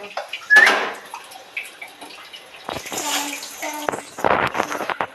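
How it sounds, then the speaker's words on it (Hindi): Dishes being washed by hand under a running tap, with splashing water bursts, clinks and trickles coming in uneven spurts, fairly close, with some quiet gaps. "बर्तन धो रही हूँ"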